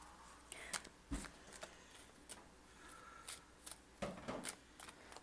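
Tarot cards being shuffled by hand, heard as soft, quiet riffles and light slaps in irregular bursts close by, with a low room hush between them.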